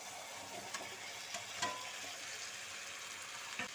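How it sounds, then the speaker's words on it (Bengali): Fried potatoes and slit green chillies are stir-fried in tomato-spice masala for a Bengali aloo dum, giving a soft, low sizzle under repeated scraping and stirring clicks. "আলুগুলো দিয়ে মশলার সঙ্গে বেশ খানিকক্ষণ কষিয়ে নিচ্ছি"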